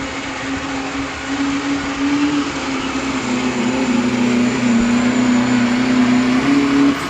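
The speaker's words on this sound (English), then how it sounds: "He's got a Duramax underneath the hood." A Duramax diesel truck engine pulls hard at a truck-pulling event in Madera, California, holding a loud, steady droning roar with a sustained tone that sags slightly and climbs again, running continuously with no talk over it.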